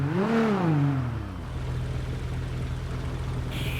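A car engine and muffler in a video game rev up and fall back at the start, then settle into a steady, low droning idle hum.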